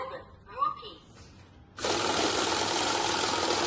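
A cash counting machine riffles through a bundle of about a hundred banknotes, a loud, dense, steady whirring flutter that starts abruptly after a voice and runs unbroken to the end.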